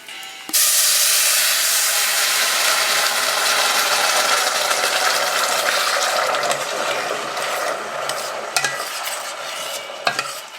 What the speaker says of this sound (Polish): przy takim wlaniu zimnej wody do garnka bardzo mocno buchnie